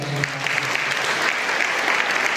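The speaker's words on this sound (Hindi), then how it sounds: "हम तालियां बजाते हैं।" An audience at a Guadalupe shrine novena service claps in a steady, dense burst of applause, fairly close and continuous from start to finish.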